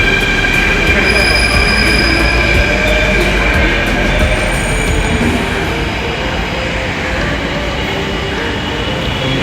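A Mumbai Metro train roars past up close, a loud continuous rumble with high wheel squeal and faint clatter throughout.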